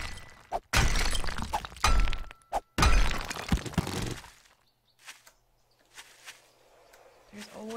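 Pickaxe strikes in 7 Days To Die, a few loud hard thunks with breaking crunches close up in quick succession, followed by quieter scattered sounds and faint game ambience.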